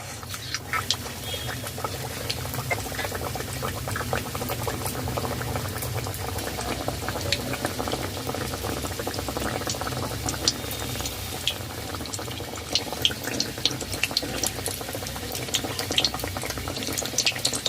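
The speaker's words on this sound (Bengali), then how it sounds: "কড়াইতে সাদা তেল দিয়েছি সাদা তেল গরম হয়ে গেছে তৈরি করা ফ্রিজ ফ্রাই দিয়ে দেব" Fish fry pieces frying in hot white oil in a wok, a dense, continuous bubbling sizzle with crackling pops throughout, close and fairly loud.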